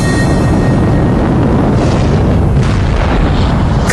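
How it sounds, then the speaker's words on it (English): Sonic boom from the Thrust SSC land speed car, a loud, dense roaring blast sustained throughout with a rumbling low end and no voices. "For creating the sonic boom heard round the world, the Thrust SSC takes the number 2 spot on our list."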